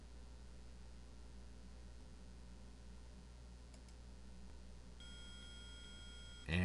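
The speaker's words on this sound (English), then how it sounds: "And it beeped." Electronic metal detector beep during a wand screening in Phoenix Wright: Ace Attorney, a short run of steady tonal bleeps near the end over a constant hiss of background noise.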